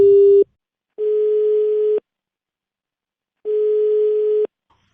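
A telephone call tone sounds while a radio prank call is being placed: three steady beeps of about a second each, separated by silences, loud and close with no voices.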